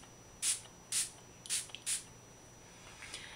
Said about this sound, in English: something I recommend is definitely spraying your face with water